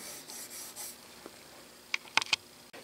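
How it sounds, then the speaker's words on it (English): A Scotch-Brite pad scrubs a small metal part from a Manson micro lathe, giving a few soft rubbing swipes at first, then a cluster of short, sharper scratchy strokes close by, quiet and without talking. "So now for the Scotch-Brite."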